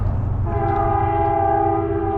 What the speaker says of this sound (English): is the train done honking? Blowing his horn?